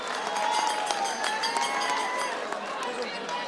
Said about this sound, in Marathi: एकदा जोरदार टाळी आपल्यासाठी सुद्धा